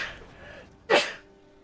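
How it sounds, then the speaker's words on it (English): A single sharp human sneeze bursts out close and loud after a quiet stretch of faint background hum, fading quickly into near silence. "You're gonna hear my sneeze, and I apologize."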